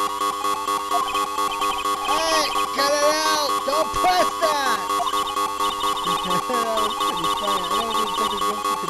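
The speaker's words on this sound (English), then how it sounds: "Emergency buzzer." A repeating electronic alarm tone in the video game Phoenix Wright: Ace Attorney Trilogy, the emergency buzzer pulsing steadily throughout under a game music bed, with a person talking over part of it.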